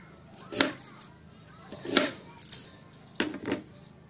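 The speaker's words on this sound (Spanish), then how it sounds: "vamos a picar la cebolla en modo cuadradito" A knife chops peeled onion into small cubes, giving four or five separate sharp taps spaced irregularly, close and fairly loud, with no talk.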